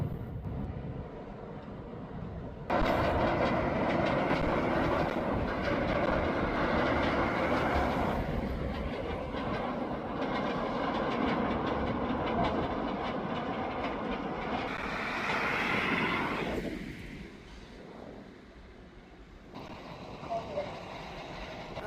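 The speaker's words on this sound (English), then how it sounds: "I actually even have a train coming through the brakes here in a moment" A roller coaster train on Valravn roars through eddy current brakes with a loud sustained rushing whoosh and rumble that rises then fades into quieter background noise.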